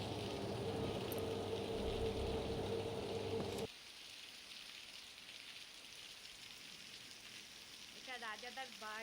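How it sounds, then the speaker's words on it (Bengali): Heavy rain pours outside a house beside a lake in Florida. A dense, loud hiss gives way abruptly to a softer, steady patter partway through, with faint voices near the end. "তুমুল বৃষ্টি যাকে বলে, তুমুল বৃষ্টি।"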